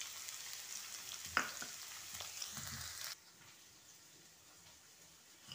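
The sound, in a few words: capsicum pieces frying in oil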